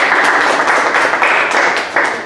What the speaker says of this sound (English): Don't you think that deserves a clap, a round of applause?